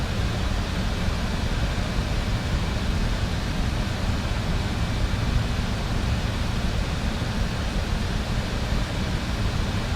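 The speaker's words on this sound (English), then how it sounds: "There goes the bleed air." Bleed air hissing aboard a Just Flight RJ airliner in Microsoft Flight Simulator: a steady, broad, even hiss that stays level for the whole stretch, alone without talk.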